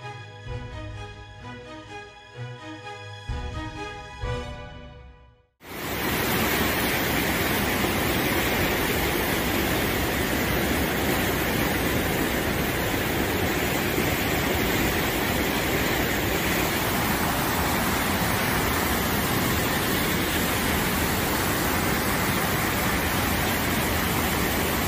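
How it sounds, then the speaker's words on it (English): Swift-moving floodwaters roar in a dense, unbroken rush of noise that starts abruptly and stays loud and steady for about twenty seconds, following a short stretch of music. "Swift-moving floodwaters can wash away or damage roads and bridges, making them impassable and requiring extensive repairs."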